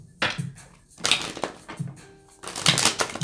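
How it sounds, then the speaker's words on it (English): Tarot cards are shuffled in a few quick bursts of riffling and crunching, close up, separated by short pauses. "Two more shuffles, please,"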